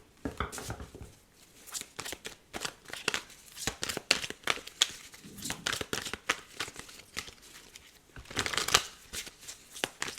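Tarot cards riffled and handled in a steady series of close, crisp shuffling bursts, with papery slaps and rustles rising and falling, a louder flurry near the end.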